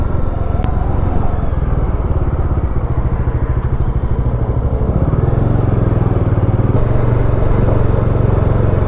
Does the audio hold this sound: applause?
no